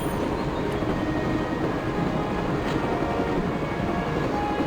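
A train runs steadily in the Broken Sword video game, a continuous, loud, dense rumble with faint rail clatter that holds evenly throughout without pause.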